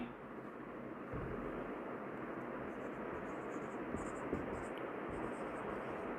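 Marker or chalk writing on a board during a maths lesson makes a faint, steady scratching hiss that runs on without pause.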